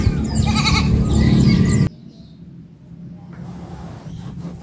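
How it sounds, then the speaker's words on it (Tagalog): Goats on a farm bleat loudly and close together for about two seconds, then only quieter outdoor background noise remains, with faint bird chirps. "Yan po yung mga maiingay na kambing"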